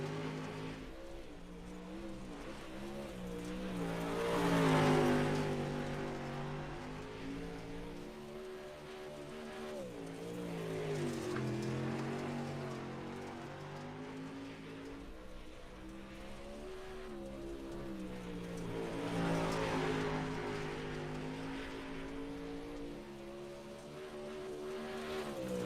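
A modified touring race car lapping Lanier in a sim racing game, its engine rising and falling in long sweeps as it accelerates and brakes through corners, mid-level and continuous with no voices.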